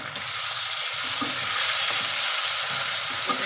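Shrimp sizzling in a pan of frying potatoes makes a steady, close hiss with soft stirring scrapes underneath, continuous throughout with no voices.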